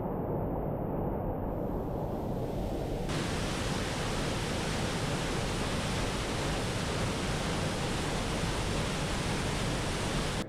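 A waterfall in the Ladder Creek canyon, North Cascades National Park, roars loudly and without a break, a dense rushing wash of water with no voices.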